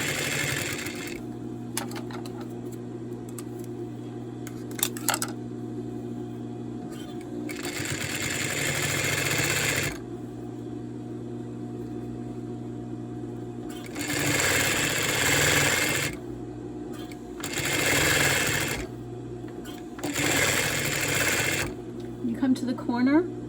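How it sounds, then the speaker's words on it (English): A sewing machine stitches the flange of a throw pillow in several loud, steady runs separated by pauses, with a speaking voice in between. "here is the stitching of the flange"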